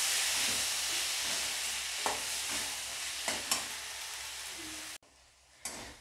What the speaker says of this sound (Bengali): ভালো করে নেড়ে নিয়ে এটার সঙ্গে তারপরে ওই টমেটোটা এর মধ্যে আমি মিশিয়ে এটাকে ভালো করে কষিয়ে নেব।